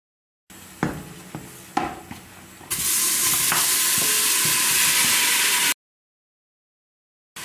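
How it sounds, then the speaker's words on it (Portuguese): Garlic hits a little oil in a pan beside rib meat and sizzles, after a few utensil clinks; a loud, steady, close frying hiss that continues for several seconds and then stops abruptly. "Colocar só um pinguinho de óleo para refogar esse alho"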